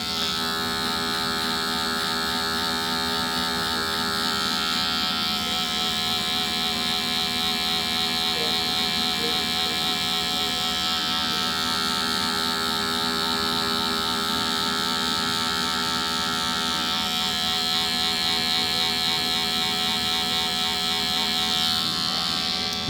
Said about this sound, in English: If you're using Andis clippers, you could use a 0, and the lever is open